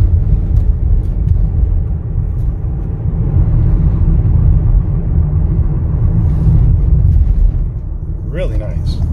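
A brand new 2022 Ford Transit XLT 12-passenger van driving, a loud steady low rumble of engine and road noise from inside the cabin, with someone talking over it.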